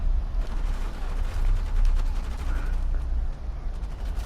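An Uncharted 4 ally NPC keeps up rapid, continuous gunfire at enemies in the Pirate Colony stage, with a dense rattle of shots over heavy low rumble, steady and loud throughout.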